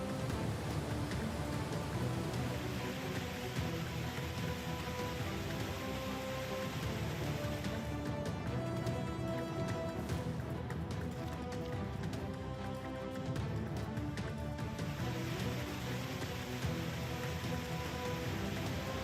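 Heavy rain pours steadily on city streets in Banaskantha, Gujarat, a dense, continuous hiss that holds at an even level for the whole stretch with no voices.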